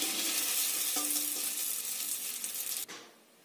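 Egg tomato pakoras fry in hot oil with a dense, bright sizzle that continues steadily before cutting off abruptly near the end, leaving quiet.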